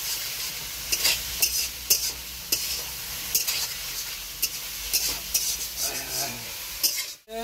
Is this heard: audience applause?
no